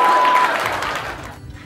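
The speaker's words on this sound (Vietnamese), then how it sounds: "năm nào em được vỗ tay như này luôn" An audience gives a short, lively burst of many hands clapping that fades off over a second or so, ending in near quiet.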